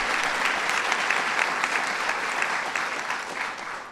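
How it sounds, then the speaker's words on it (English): A crowd applauds Dr. Jill Biden at a Mother's Day tea at the White House, loud, dense clapping held for about four seconds and easing slightly at the end. "Dr. Jill Biden, let's give her a round of applause."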